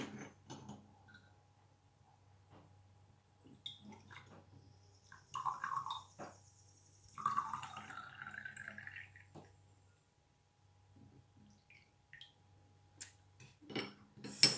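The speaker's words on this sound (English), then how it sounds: "now I'll be adding 4 ounces of water. Now this is a 4-ounce bottle, so I'll just fill it up." Water poured into a small 4-ounce bottle for a homemade saline eye-drop mix, with intermittent trickles, clinks and stirring scrapes spread across a quiet, close-up kitchen setting.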